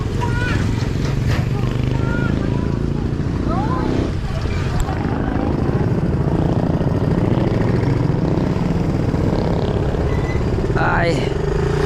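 A motorcycle engine idles steadily with a continuous low rumble throughout, mixed with outdoor street noise.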